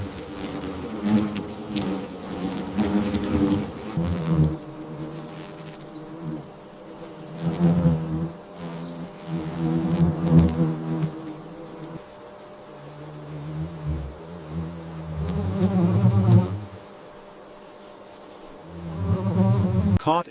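Paper wasps buzz and hover near a nest, a steady close insect drone that swells and fades in several waves over about twenty seconds, with no voices.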